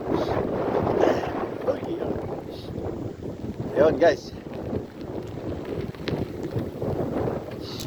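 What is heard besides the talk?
strong cold wind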